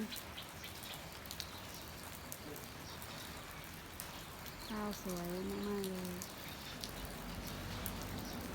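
Rain falls over green rice fields, a steady fine patter throughout, while someone speaks over it and birds call faintly in the background.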